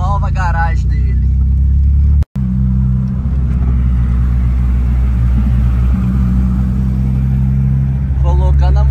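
Volkswagen Gol car being driven, a steady low engine and road rumble heard from inside, with people talking at the start and end.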